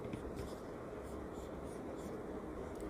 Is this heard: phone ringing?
no